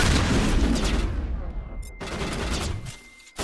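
Turret gunfire in the Mass Effect 1 Legendary Edition game, with dense bursts of rapid shots and booms filling the first seconds, then a steadier barrage with a thin electronic whine before a brief drop and a final loud hit.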